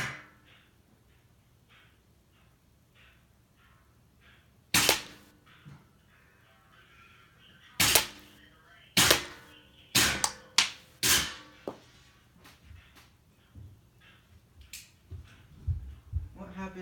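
An airsoft gun of about 350 FPS fires heavy BBs at a target 10 to 12 feet away. About a dozen sharp snaps come in irregular bursts, some quickly in succession, with faint ticks of impacts and quiet handling between shots.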